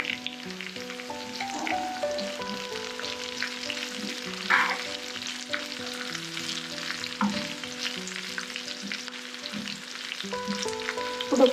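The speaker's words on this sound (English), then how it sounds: "Onions are getting quite brown and well fried now, so I'm going to add the chilies and the whole spices." Browned onions with chilies and whole spices fry in a pan for Goan chana gravy, a soft continuous sizzle with occasional stirring clinks, quiet and close, over a gentle tonal background hum and no speech.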